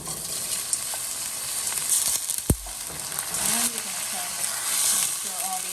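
Garlic, tomato paste and lentil peas sizzle in oil in a pot for Guyanese stewed lentils, a steady close crackle with stirring, a sharp clink partway through, and faint voices in the background.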